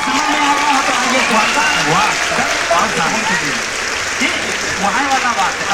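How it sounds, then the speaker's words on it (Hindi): An audience at an Awadhi poetry gathering claps in a sustained burst of applause, loud and dense, with voices calling out over it. "तालियां, वाह"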